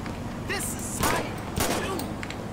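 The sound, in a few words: gunshots fired at a car's tyre in video game GTA V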